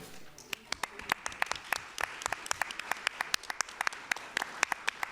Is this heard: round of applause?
yes